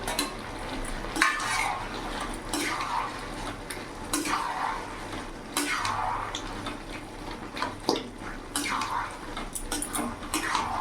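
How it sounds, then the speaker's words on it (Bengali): Fried eggplant tipped into boiled taro in a pan and stirred for a vegetarian ghonto, with repeated scraping and clattering of a spatula against the pan over a low sizzle, close and busy, with a voice faintly in the background. "এবার ভেজে রাখা বেগুনগুলো দিয়ে দেবো"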